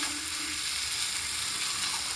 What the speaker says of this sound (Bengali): টমেটো সসটাকে দিয়ে ভালোভাবে নাড়াচাড়া করে নিচ্ছি